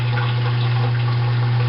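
A newly installed kitchen garbage disposal runs with the tap water flowing into it, a loud steady motor hum under a constant rush of water, close and unbroken.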